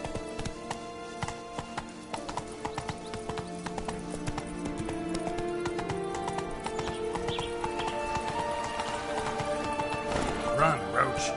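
Horse galloping in a video game, a fast continuous run of clip-clop hoofbeats with an occasional whinny, heard close and steady beneath game sounds and background music.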